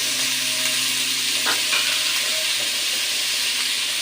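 Food frying in a pan gives a steady, loud, continuous sizzle throughout, with a few faint clinks and stirring noises and no talk.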